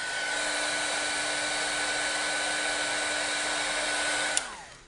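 A heat tool blows hard and steady at close range while melting glittery twinkling embossing powder for cardmaking, then clicks off near the end and its whine winds down.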